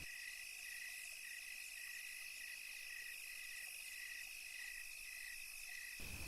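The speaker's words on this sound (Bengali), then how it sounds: "ঝিঝি পোকাদের ডাক" Crickets chirp at night in a continuous, shrill, high-pitched trill, faint and steady with no other sounds.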